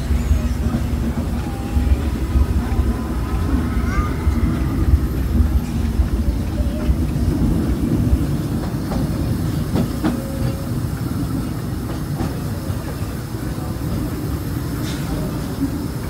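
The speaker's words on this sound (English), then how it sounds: "mysterious spirits have grabbed hold of those mining trains and turned them into the wildest ride" A Big Thunder Mountain mining train ride at a Disney park runs along steadily with rumbling wheels, rattling clickety-clack and occasional squeals, loud and close throughout; muffled voices are faintly present underneath.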